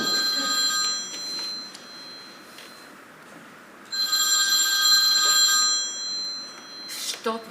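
An old-style telephone bell rings in two bursts with a pause between them, a bright metallic trill that is moderately close, with a faint click at the end.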